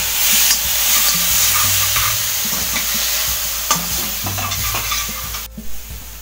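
Chopped tomatoes hit hot oil in a kadhai for masala rice, bursting into a loud, dense sizzle that slowly settles, with utensil scrapes and clinks of stirring, then a sudden drop near the end; no talking.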